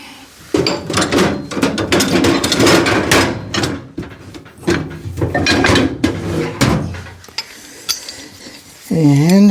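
A pipe wrench tightens a fitting on a water line, held in a small vise during a horse barn build. It gives a dense run of close metallic clanks, knocks and scrapes, with brief pauses between bursts.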